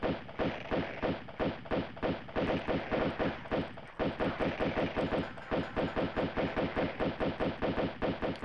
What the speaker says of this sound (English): I seem to hit him once with a pistol on every pass.